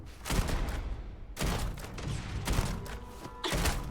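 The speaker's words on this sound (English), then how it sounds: "This gun shoots really slow" A video game gun fires in bursts, with several dense volleys of muffled, rumbling shots separated by short gaps, heard at moderate loudness with no talk over it.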